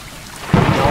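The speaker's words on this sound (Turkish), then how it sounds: "Yağmurlu bir gün." Rain and a rumble of thunder in a cutscene of the video game Stray, steady rainfall hiss with a deep thunder swell rising halfway through, close and loud with no talk.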